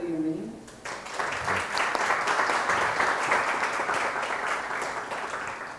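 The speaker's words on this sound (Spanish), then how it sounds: "démosle un aplauso de bienvenida" Welcoming applause from a lecture audience, a dense steady patter of many hands clapping that swells in after a short spoken introduction and holds for several seconds.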